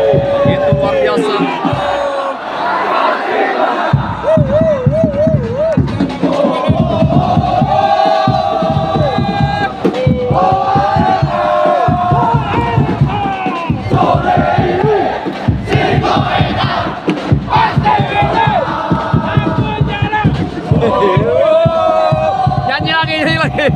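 Big stadium football crowd at Jalak Harupat singing and chanting together in sustained, loud, rhythmic waves, voices massed into a continuous roar with a steady pulse throughout.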